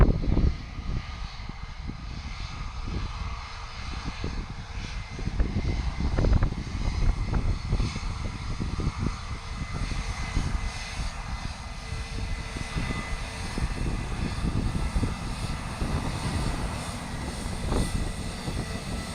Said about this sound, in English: another one coming past, EasyJet Airbus